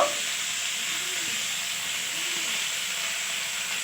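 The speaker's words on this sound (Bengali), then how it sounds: "একটা কড়াইয়ে তেল গরম করে এতে সবজিগুলো দিয়ে দিচ্ছি" Vegetables frying in hot oil in a wok give a steady, loud broadband hiss and sizzle that holds evenly throughout, with no voices.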